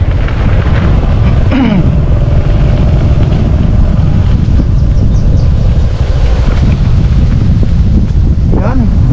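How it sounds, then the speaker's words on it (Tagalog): Strong gusting wind buffets the microphone outdoors as a drizzle begins: loud, continuous rumbling roar and flutter from start to finish, with a few faint higher sounds in the background. "Lakas ng hangin."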